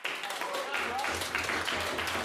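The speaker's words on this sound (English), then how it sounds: "a small round of applause for them" Brief burst of audience clapping at a student debating society event, a round of applause for the student newspaper, moderately loud with a murmuring room beneath it.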